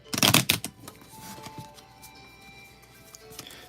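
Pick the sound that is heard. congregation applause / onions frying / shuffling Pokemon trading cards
shuffling Pokemon trading cards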